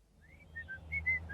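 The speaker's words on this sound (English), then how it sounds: "He whistled as he clambered into the driver's seat." A man whistles a short, quiet tune of about six bright, separate notes that rise and fall, heard alone and close.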